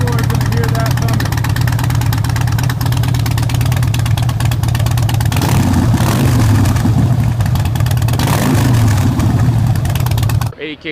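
A Harley-Davidson Softail Deluxe motorcycle engine runs loud and close for about ten seconds, a steady low rumble with two swelling revs partway through, then cuts off abruptly.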